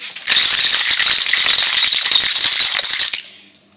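Vigorous rapid rattling of ice in a cocktail shaker mixing a Thai tom yum cocktail, loud and close, shaken steadily for about three seconds before stopping.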